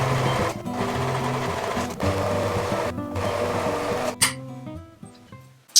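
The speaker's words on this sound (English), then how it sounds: "Okay, I have overlocked everything that can be overlocked." A sewing machine or overlocker runs in quick, rhythmic bursts while serging garment fabric, its motor whirring with brief pauses between passes and fainter stitching toward the end.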